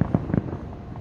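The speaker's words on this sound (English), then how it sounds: "it's that fireworks" Nightly fireworks at Disneyland go off in a quick run of three or four muffled booms and pops from some distance, with crackling that fades to quiet by the end.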